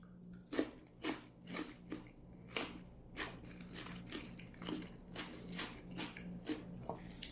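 Close chewing and biting of boiled eggs and cucumber, repeated crunchy bites in an irregular rhythm, fairly quiet over a low steady background hum, no talking.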